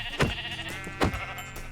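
Minecraft sheep bleating twice in quick succession, close and clear over a low steady in-game background, with no talk.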